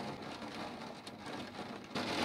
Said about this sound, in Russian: Гроза приближается. Пока интенсивность грозы держится.